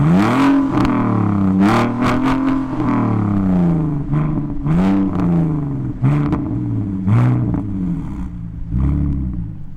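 A BMW Z4 running a back box delete exhaust revs repeatedly, each blip rising and falling in loud, close bursts with a raspy, throaty tone.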